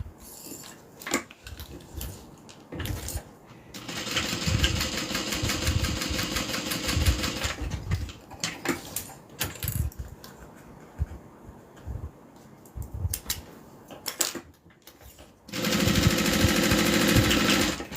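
Sewing machine stitching a notebook holder in bursts, a rapid mechanical whir that runs for several seconds, pauses amid clicks and handling noises, then starts again loudly near the end.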